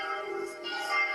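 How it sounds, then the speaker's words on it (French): Church bells swinging in full peal at a cathedral in the video game Block Craft 3D, a sustained ringing wash of overlapping bell tones, moderately loud and alone. "ce sont des cloches qui sonnent à la volée"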